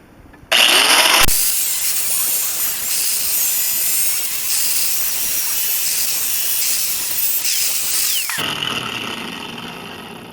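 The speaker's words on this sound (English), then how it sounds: "This is why you don't use your hands free with a powered corded grinder." A powered corded grinder cuts metal while a magnetic welding position holder is being made, giving a loud, steady, hissing high whine that holds for about eight seconds before stopping abruptly and winding down.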